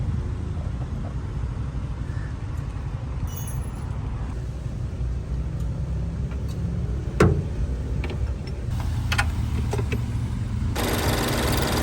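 A Mini Cooper R60 engine idles steadily at close range during battery work, a continuous low rumble with light ticking on top and a sharp click partway through.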